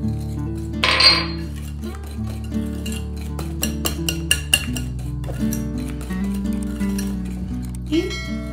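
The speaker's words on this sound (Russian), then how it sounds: "Продолжаем перемешивать," A whisk stirs cookie dough made with sugar and baking soda in a bowl, producing repeated light clinks and scrapes against the sides in quick bursts, with a person talking over it.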